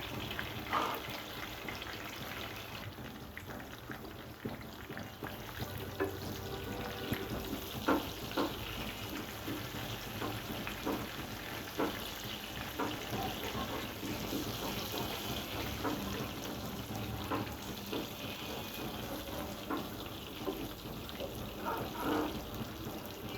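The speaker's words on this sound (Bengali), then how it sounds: "বেগুনটা একটু ভেজে নেব," Eggplant frying in a pan for a prawn and eggplant dish, a steady close sizzle with occasional stirring scrapes and clicks running continuously throughout.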